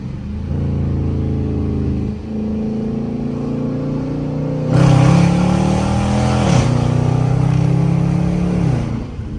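A Dodge Charger R/T with a 5.7 V8 accelerates hard at night, the loud engine note rising through the gears in a sustained roar with a brief dip at a shift, close and dominant.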